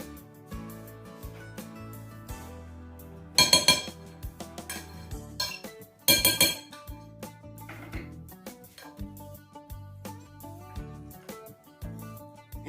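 A spoon clinks and scrapes against a dish as a thick tuna casserole mixture is stirred, with irregular taps, two louder clattering bursts, and a background tone that sounds like music.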